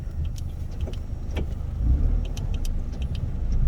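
A 2018 Chevrolet car making a U-turn in sport throttle mode, a close low engine rumble inside the cabin swelling slightly, with scattered light clicks and rattles over it and no talk.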